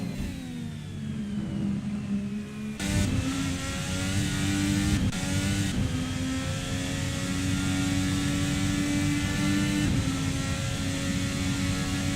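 IndyCar race cars lapping Road Atlanta in a racing video game, a steady sustained engine drone with rising and falling pitch and occasional sharp shifts, no talk over it.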